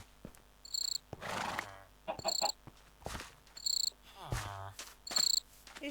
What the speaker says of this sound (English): These crickets are very abundant.